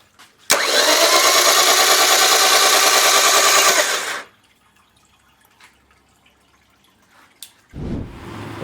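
A Yamaha F70A outboard motor with its spark plugs removed cranks over in one continuous, loud, even burst of about four seconds. Quiet follows, then a short low rumble at the end.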